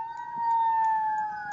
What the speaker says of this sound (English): There were fire trucks passing by.